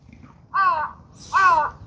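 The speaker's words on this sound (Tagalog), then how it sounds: "Ang lalaki ng uwak dito sa Japan." A crow in Shinjuku, Japan caws twice, loud and close, with a short pause between the harsh calls over quiet background.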